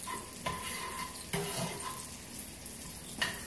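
Mushrooms and garlic being stirred in a pan, a continuous sizzling hiss with a few scraping strokes and light knocks, close and steady, no speech.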